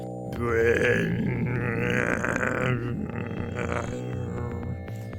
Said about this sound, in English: With the very low drone fart.